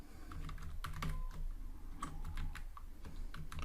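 Rapid clattering of keystrokes on a computer keyboard while entering a PostgreSQL query, close and steady with irregular bursts of taps throughout, no voices.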